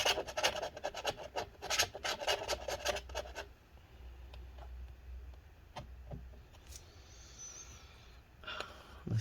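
Scraping old battery adhesive inside a 2012 15-inch Retina MacBook Pro A1398, a run of dense, gritty rasping strokes that comes close and loud at first, then fades to faint scrapes and scattered small clicks.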